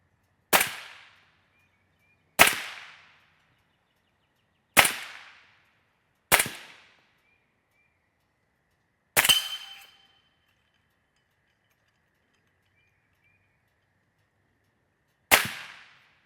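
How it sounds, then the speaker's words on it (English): Six sharp, loud reports from an 8.6 Blackout rifle firing 300-grain copper solid rounds ring out outdoors at uneven intervals, each crack followed by a brief decaying echo, with silence in between. "Deacon wants to fire the last 5 rounds"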